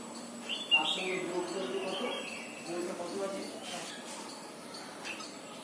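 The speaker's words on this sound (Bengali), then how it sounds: "সব থেকে মিষ্টি মধুর কোকিলের ডাকটা।" An Asian koel calls outdoors in the morning, with faint chirping bird notes at a moderate distance over a soft background hum.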